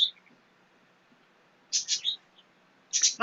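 Pet birds indoors give a few short, sharp high chirps in small clusters, loud and close against an otherwise quiet room.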